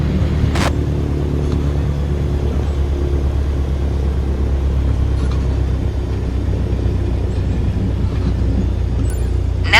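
A small airplane's engine runs at around 1,000 RPM while taxiing toward the runway, a loud, steady low drone and rumble close by with no break.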